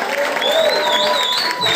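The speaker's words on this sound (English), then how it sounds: "Let's give Blaq Ice a whole nother round of applause." At a live poetry event in Las Vegas, the crowd applauds poet Blaq Ice, a sustained, close round of clapping with a high whistle riding on top.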